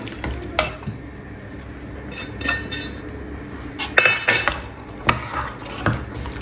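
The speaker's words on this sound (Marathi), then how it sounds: "छोले टाकलेले आहे मी मिक्स करून घेऊ" A spoon stirs chole, a chickpea curry with plenty of coriander, in a pot. Scrapes and sharp metallic clinks come in irregular bursts over a faint sizzle, with no talking.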